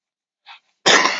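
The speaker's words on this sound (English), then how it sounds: "Excuse the coughing." A person coughs in the early morning, a small throaty huff followed by a louder, harsh, explosive cough up close.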